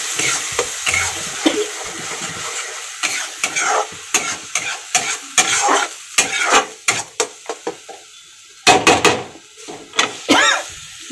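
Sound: ground masala frying in a pan on low flame

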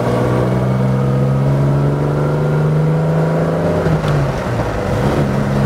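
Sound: 1960 Jaguar XK150 3.4 engine accelerating in third gear

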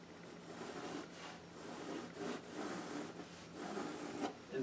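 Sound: marker drawing lines on paper

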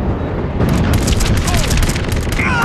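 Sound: explosion as the bunker is destroyed in video game MAG

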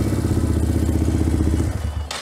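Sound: Suzuki DR200 motorcycle engine running with Nibbi racing carburetor

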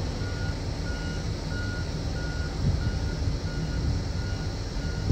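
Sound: backup beeper of a vehicle reversing

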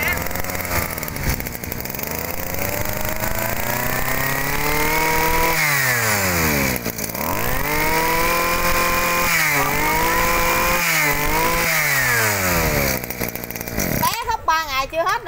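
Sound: Robin 22cc Japanese brush cutter engine running

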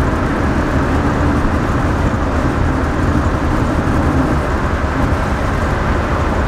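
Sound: classic car engine running after distributor adjustment

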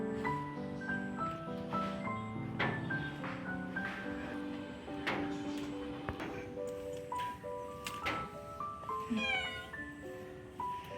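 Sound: cat meowing

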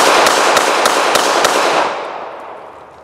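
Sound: gunshot from Beretta Model 80X Cheetah pistol

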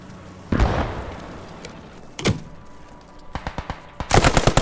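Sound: mortar explosions and machine gun fire in Post Scriptum video game

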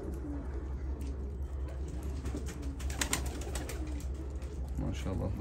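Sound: pigeons cooing on a bird farm

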